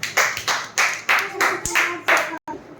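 Schoolchildren clap together at a primary school event, several rhythmic bursts of applause close by, with brief voices mixed in between the claps.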